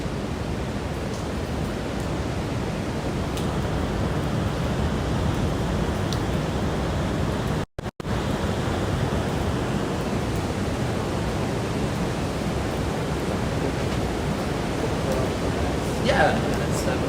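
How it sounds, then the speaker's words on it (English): Large waves breaking at sea during a typhoon off Baler in the Philippines, a continuous loud roar of surf and wind that fills the whole clip, broken only by a brief dropout near the middle. "Big waves breaking at sea."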